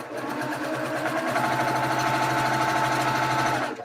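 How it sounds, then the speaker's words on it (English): A Brother PQ 1500 straight stitch sewing machine running fast and steady, a loud close continuous mechanical whir that holds for several seconds before stopping, with no voices. "I'm sewing on the Brother PQ 1500 straight stitch machine."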